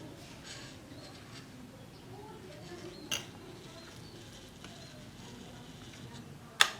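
An RFID-controlled automatic door's solenoid lock engaging and releasing, giving two sharp mechanical clacks, one near the middle and a louder one near the end, over a quiet room background.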